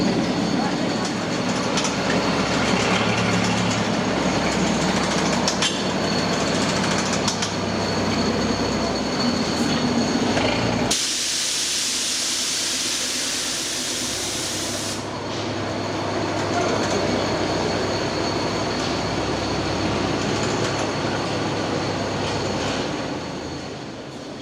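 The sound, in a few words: train running on the South Tynedale Railway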